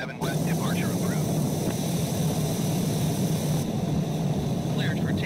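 An aircraft on a runway during takeoff gives off a steady, loud engine drone and roar that runs unbroken throughout, with faint radio-style voice fragments above it.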